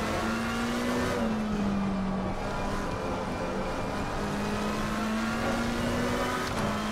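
Race car engines in Assetto Corsa Competizione on PS5, a steady high-pitched drone that climbs and dips gently as the car runs at speed, loud and continuous with no voices.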